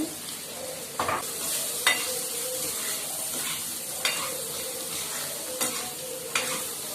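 Cut raw mango is stirred into an instant mango pickle of oil and salt, a steady low sizzle-like hiss punctuated by several spaced scraping strokes of a spoon against the pan.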